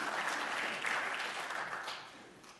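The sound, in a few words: congregation applause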